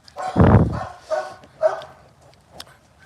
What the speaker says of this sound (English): Look at my little dog, just confident.